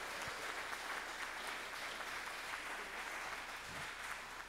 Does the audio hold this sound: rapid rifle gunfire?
no